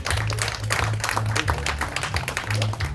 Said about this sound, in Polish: Gorące brawa dla wszystkich sponsorów jeszcze raz.